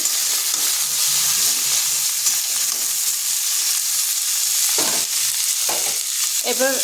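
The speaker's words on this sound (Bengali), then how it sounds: "এগুলো একটু ভালোভাবে কষিয়ে নিচ্ছি।" Vegetables for shukto, with salt added, frying in a pan and being stirred: a constant loud sizzle with occasional scraping strokes of the spoon toward the end.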